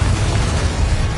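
A Confringo spell blast in Hogwarts Legacy lands as a loud, close, dense explosive roar lasting about a second, heavy in the low end.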